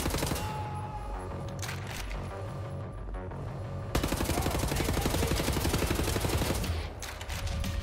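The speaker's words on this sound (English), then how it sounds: "then they start shooting at me again" Gunfire in Wolfenstein: The New Order rattles in sustained automatic bursts, dense and loud, briefly thinning before a sharper, harder volley resumes and continues close by.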